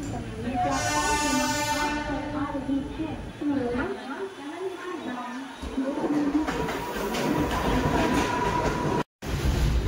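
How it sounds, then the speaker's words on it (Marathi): A passenger train on the Konkan route pulls out of Panvel station, its loud rumble and wheel clatter building from close inside the carriage, with a long horn at the start and people talking throughout. "फायनली ट्रेन प्लॅटफॉर्मवरून सरकलेली आहे."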